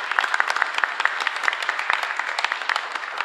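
A congregation at Mass in a small chapel gives a strong round of applause for worshippers dressed in traditional costume. The crisp, closely packed claps stay lively and sustained throughout.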